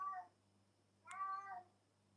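A stray cat meows twice, close by and fairly faint, with a short pause between the calls over a low steady hum.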